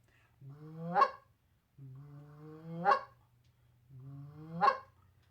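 Three goose calls blown as peep clucks, each rising from a low note into a sharp, higher peep-cluck, spaced evenly about two seconds apart with quiet hum between.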